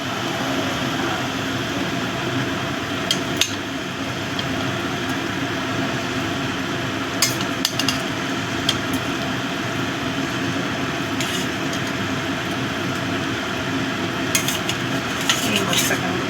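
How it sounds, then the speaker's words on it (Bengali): Bata fish pieces being added one by one to a boiling curry in a pan, giving a steady bubbling simmer with occasional clinks and taps of utensils against the pan. "ঝোলটাও ফুটে গেছে। এবার আমি মাছগুলো দিয়ে দেব।"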